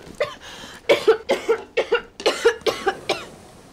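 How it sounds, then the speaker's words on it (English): A woman coughs in a rapid fit of about ten harsh, close coughs, one right after another, with no speech. "Why is she coughing?"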